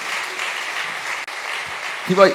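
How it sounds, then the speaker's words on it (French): Applause from an audience at a live testimonial talk, a moderate steady clapping that briefly cuts out midway, with a voice rising over it at the end. "Est-ce qu'on va applaudir Marie, s'il vous plaît?"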